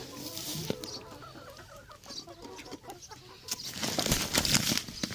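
Chickens in a backyard poultry coop cluck and squawk close by, with a brief flutter of wings and rustling that grows busier toward the end.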